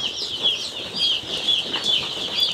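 Baby chicks in a brooder peep and cluck continuously, a busy chorus of high chirps close by with faint rustling and wing flaps.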